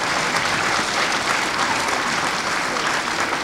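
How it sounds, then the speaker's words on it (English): Audience applause for school support staff at a Chinese New Year performance, a continuous loud burst of many hands clapping with no break. "Give them a big round of applause, please."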